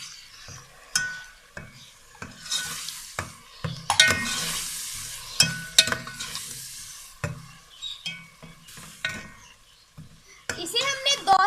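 Onions sizzle and fry in a pan with ginger, garlic and green chili paste while a utensil scrapes and stirs in repeated bursts, and a voice is heard in the background.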